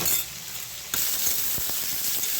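Potatoes fry in a pan with a steady sizzle that dips briefly, then returns louder, accompanied by a few light clinks and taps of a utensil.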